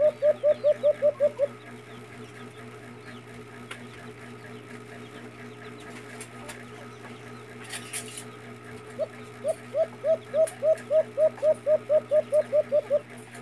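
A white-eared brown dove (alimukon) coos in quick rhythmic bursts of rapid repeated notes, one series at the start and a longer one near the end, with quiet background hum and faint sounds between.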